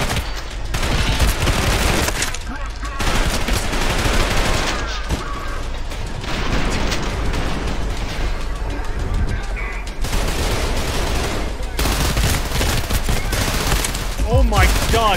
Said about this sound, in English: the shooting is insane